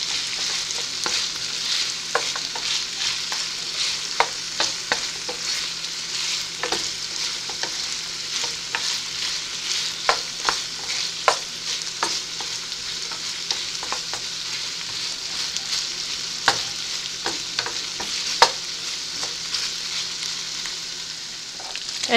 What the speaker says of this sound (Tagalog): Iintayin natin tong maprito ulit sa sarili niyang mantika.